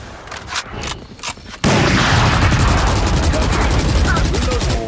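Rapid automatic gunfire in the Valorant shooter game bursts in loudly after a few scattered shots and keeps up as a dense, continuous spray of close shots.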